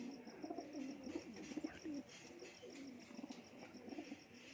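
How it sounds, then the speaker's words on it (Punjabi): Pigeons from a Punjab pigeon keeper's flock coo close by in soft, overlapping rolling calls, with faint chirps and a thin steady high tone behind. "ਬਹੁਤ ਤਕੜੇ ਕਬੂਤਰ ਬਾਈ ਕੋਲੇ"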